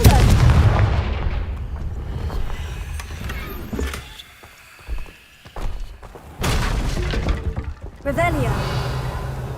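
A Confringo blasting-spell explosion in a Hogwarts video game: heavy booming blasts and thuds, loud and close, with rumbling decay and a quiet lull midway before more bursts, while a voice speaks over parts.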